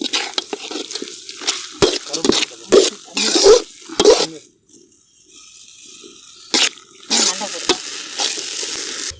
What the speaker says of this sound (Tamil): குழம்பு எந்த அளவு நம்மளுக்கு தேவையோ அந்த அளவுக்கு தண்ணி சேர்த்துக்கிறோம்.